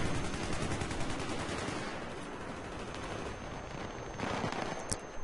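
Sustained automatic gunfire in Battlefield 3 rattles in rapid, continuous bursts, loud and close throughout, with a sharper crack near the end.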